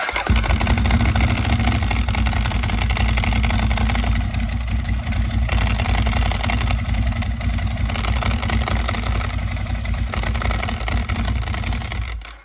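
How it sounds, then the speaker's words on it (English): A 2009 Ducati Monster 1100 S idles with a loud, steady, low-pitched throb held close for the whole stretch, then cuts off at the very end. "I'll start it back up. And it's going to be loud, and then I'll pull the clutch in and you'll hear what it's like when you're sat idle"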